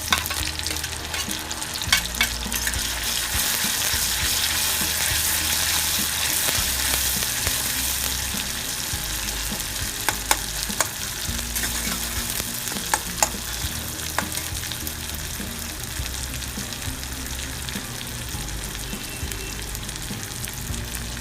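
Tomato and chili frying in a hot pan, a steady dense sizzle with scraping stirs and occasional clinks of the spoon throughout, no voices.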